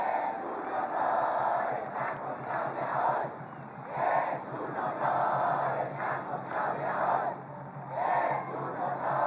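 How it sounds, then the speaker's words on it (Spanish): A large crowd at a Morena political rally in Mexico roars and cheers in continuous waves, swelling and easing repeatedly over a sustained wash of voices. "Un aplauso a nuestros diputados y senadores, patriotas."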